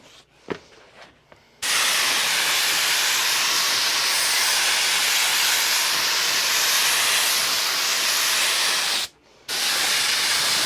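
Spray can squirting adhesive onto a motorcycle seat base for custom vinyl upholstery, a loud steady hiss that runs for several seconds, breaks off briefly, then starts again, with a few small knocks just before it begins.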